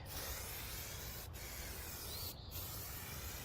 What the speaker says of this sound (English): And then I start spraying out here before we come back